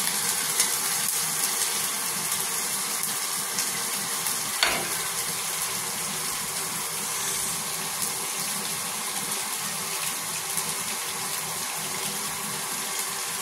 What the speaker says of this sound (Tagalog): gigisa na rin natin yung ating manok